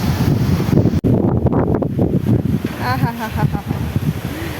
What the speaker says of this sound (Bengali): কি বাতাস কি বাতাস